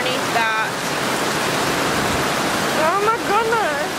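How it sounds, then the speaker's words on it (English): Heavy storm rain pours at a horse barn, a dense, loud, steady hiss like a downpour on a roof and ground, with a person's voice speaking over it at the start and end. "I didn't know it was about to rain this hard."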